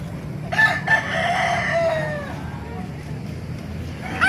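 A White Hatch gamefowl rooster, an eight-month-old early bird, crows once loud and close, a long drawn call with a clucking note at the end and faint background noise.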